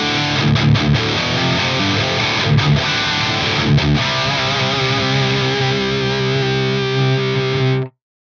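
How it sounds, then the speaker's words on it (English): Heavily distorted electric guitar through a rectifier-style amp preset on a Fractal FAS AX8, played in chugging, palm-muted bursts and then one long sustained chord that rings out before stopping abruptly. "I've got a rectifier preset set up. It sounds like this."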